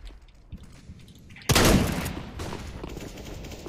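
A Nova pump shotgun fires in a Counter-Strike: Global Offensive match, and a single loud, close blast stands out after quieter game sounds, followed by a decaying echo and faint clatter.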